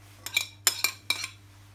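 Shallots and thin slices of mirabelle plum being mixed in a bowl for a fish tartare, heard as a few light clinks and scrapes of a utensil against the dish in a quiet kitchen, with no talking.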